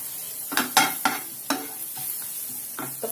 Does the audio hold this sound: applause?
no